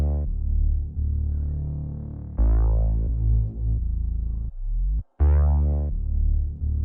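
Four layered bass one-shots from different sample kits, used in an ambient beat, play a single note together that follows the root, with deep sustained booming tones and pitch glides, loud and alone.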